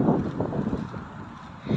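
Wind blowing across an open waterfront park near heater posts, a steady broad rush with gusty swells close to the microphone, no voices.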